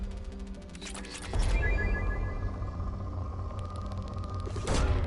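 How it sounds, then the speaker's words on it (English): A planet-scanning probe launches in the sci-fi game Mass Effect 2, with a sharp electronic whoosh and a deep booming thump that settles into a sustained rumbling hum, preceded by rapid beeping tones. "Launching probe."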